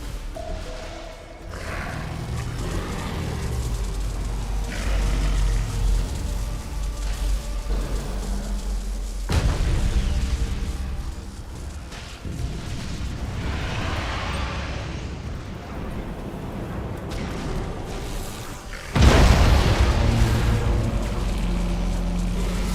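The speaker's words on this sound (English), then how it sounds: "They're using Nova Cannon on us." Nova Cannon fire from a Battlefleet Gothic: Armada 2 space battle against Tyranid ships, heard as a dense, roaring rumble of low booms over game music, with a heavy blast near the end that jumps louder.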